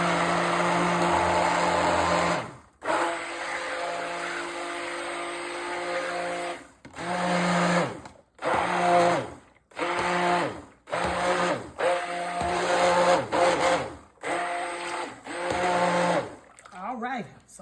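Electric stirrer churning a sugar mixture for strawberry candy apples, a loud continuous motor whir running in bursts with brief stops between them.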